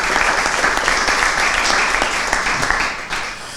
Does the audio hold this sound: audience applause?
yes